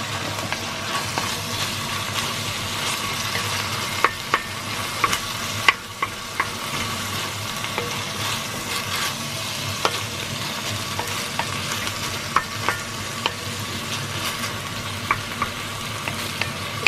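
Bitter gourd (ampalaya) sautés in a pan, giving a steady, close sizzle of frying with occasional sharp clicks and scrapes from stirring throughout.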